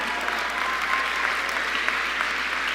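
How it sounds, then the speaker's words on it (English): Sustained applause from a graduation audience at Incline High School's 2021 ceremony, a dense, steady wash of many hands clapping throughout with no pause. "That's it, I get one clap on that one."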